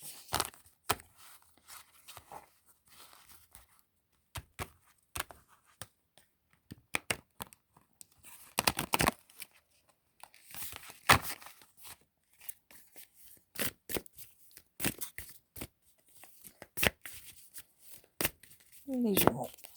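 Tarot cards are shuffled and drawn by hand in a run of crisp riffles, slaps and soft papery flicks, some in quick bursts and others spaced apart, close and fairly quiet, with a brief voice near the end.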